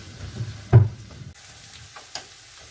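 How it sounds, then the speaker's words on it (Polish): Chopped onion sizzles in olive oil in a frying pan while a utensil stirs it, giving a soft steady crackle with one clear scrape and clatter of stirring. "Wrzucam cebulę i należy ją podsmażyć"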